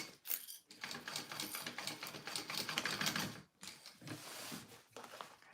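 A sewing machine bastes fabric onto a zipper, its needle running in fast rattling bursts with a brief pause midway, close and fairly loud.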